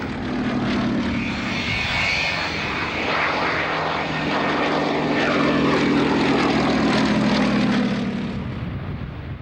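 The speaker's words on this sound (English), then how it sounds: "Operated by the Shuttleworth Collection, this Lysander is the last airworthy example of this historic type." A Westland Lysander propeller aircraft from the Shuttleworth Collection flies at a UK airshow, its radial engine giving a continuous droning roar with a shifting pitch as it passes, loud and sustained with no talk.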